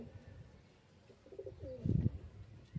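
A single domestic country pigeon at a home loft gives a short, low cooing burst near the end, close by, over quiet room noise.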